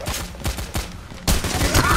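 Rapid gunfire in Payday: The Heist, repeated sharp shots at a quick uneven rhythm that build into a louder continuous barrage in the second half.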